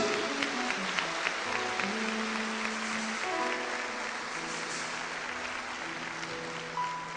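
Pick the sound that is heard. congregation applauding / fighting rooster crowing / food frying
congregation applauding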